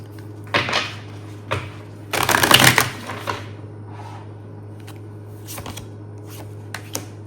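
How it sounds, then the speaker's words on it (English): Tarot cards riffle-shuffled in a few brisk bursts, the longest in the middle, with quiet pauses and small taps between them against a low steady hum. "Do a good hard shuffle."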